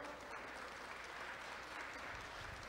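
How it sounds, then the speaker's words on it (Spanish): A medical talk audience applauds in welcome, giving a continuous, even burst of many hands clapping, faint and somewhat distant, with no speech. "María del Carmen Verdeja, la recibimos con un fuerte aplauso."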